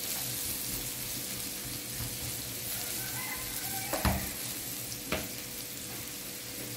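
Eggplant and garlic sizzle in a frying pan with a steady, close hiss, broken by a couple of soft clinks or stirring knocks, no voices.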